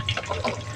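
Tap water running into a sink while hands are washed, a short, close, steady splashing flow.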